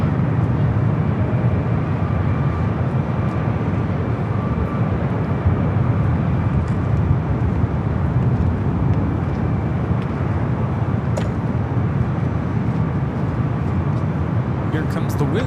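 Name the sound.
airliner of the Osaka flight at LAX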